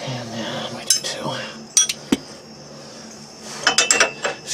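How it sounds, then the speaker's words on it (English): Metal wrenches bang and clink against each other and against a car's steering brace during a repair, in scattered sharp metallic knocks over a low background hum. "Excuse the banging wrenches."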